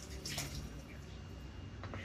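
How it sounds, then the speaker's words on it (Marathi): Water poured into kofta curry gravy in a pot, a steady close splashing pour lasting the whole moment. "तर आता मी यात 2 कप पाणी घालते"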